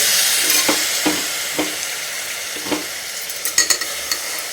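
Washed minced meat fries in hot oil, giving a loud continuous sizzle broken by regular scraping strokes of a stirring spoon, close up and with no voices.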